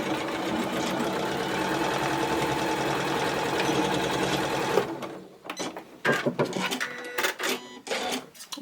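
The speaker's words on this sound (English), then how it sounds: "take it to the machine, line it up and sew straight across" A sewing machine runs continuously as it sews straight across the bottom of a fabric bottle bag, a close, even hum for about five seconds, then stops, leaving clicks and handling noises.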